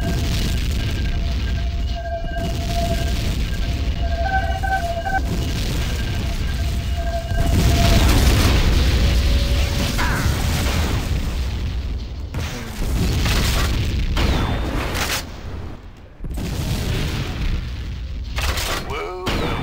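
Bomb blasts in Tribes 2 during a 16-versus-16 capture-the-flag match on the Katabatic map, heavy low booms rolling under continuous game noise and radio-style voice chatter.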